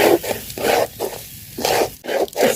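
Broken rice dry-fries in a pan with salt and a little turmeric while a spatula stirs it, making a close, rhythmic series of about six or seven rough scraping strokes with short pauses between them.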